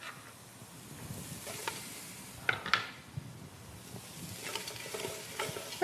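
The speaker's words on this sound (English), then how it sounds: "We're just going to stir this so everything's making contact." Leeks sizzle softly in a soup pot while being stirred, with a few sharp utensil scrapes and clinks against the pot over a low frying hiss.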